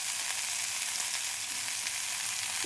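Tomatoes fry in a hot pan, giving a steady, close, even sizzle with faint stirring and no voices.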